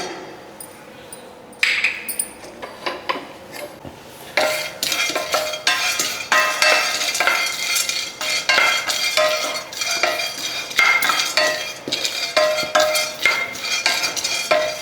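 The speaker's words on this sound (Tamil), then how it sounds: "அடுத்து வந்து சூரியகாந்தி விதை போட்டுக்கலாங்க" Sunflower seeds roasting over a low flame in a pan, stirred with a utensil that scrapes and clinks against the metal in a quick irregular rhythm, close and fairly loud.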